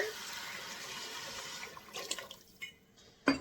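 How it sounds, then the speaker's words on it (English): Water pours steadily into a soup pot in a home kitchen, a continuous close splashing rush that tapers off, followed by a brief clink near the end. "what I am going to do is add in my 10 cups of water"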